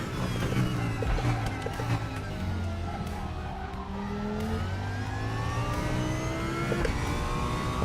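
A Porsche race car engine in the RaceRoom racing simulator revs and shifts through rising and falling tones, with other cars buzzing nearby, fairly quiet and continuous throughout.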